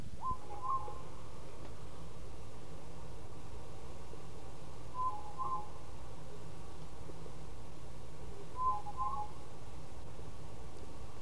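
Unusual birdsong in a botanical garden of blooming plants, with soft hooting whistled calls repeating about every four seconds over a steady background hiss.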